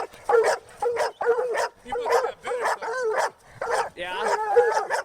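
Several dogs bark and yip excitedly at close range during live bait training, a rapid, nearly continuous string of high barks with whimpering yelps mixed in.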